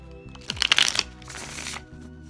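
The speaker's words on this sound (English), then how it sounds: "I'm just going to give them one more shuffle." Tarot cards from an Everyday Witch deck shuffled by hand in one brief burst of riffling, papery flicks, close and fairly quiet.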